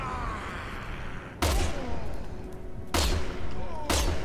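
Explosions from a remote bomb detonated in Resident Evil 6: three sharp, loud blasts with brief rumbling tails, spaced about a second and a half apart over steady game noise.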